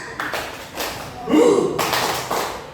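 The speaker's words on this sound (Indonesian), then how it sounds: "kita coba ya. Tepuk semangat." A group performs a rhythmic spirit clap, tepuk semangat, in patterned bursts of hand claps and taps, with voices chanting along between the beats.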